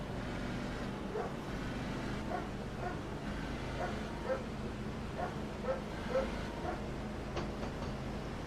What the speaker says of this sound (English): Trying to get my dog to shut up.